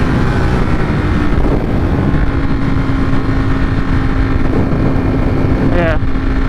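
A motorcycle ridden on the road, steady engine drone with heavy wind buffeting the microphone throughout, close and loud, with a brief higher whine near the end.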